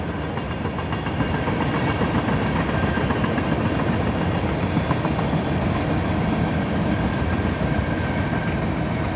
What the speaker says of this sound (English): Alright, this train is a tanker train.